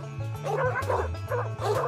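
A farm dog barks repeatedly at deer in New Zealand, a close, loud series of bow-wow barks with yipping and whimpering edges, coming in quick bursts with no talk over them.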